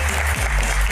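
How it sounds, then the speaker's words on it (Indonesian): An audience at an Indonesian Q&A event applauds as a guest is invited up: a dense, continuous wash of clapping at fairly loud level with a low hum underneath, brief and without talk. "Tepuk tangannya mana?"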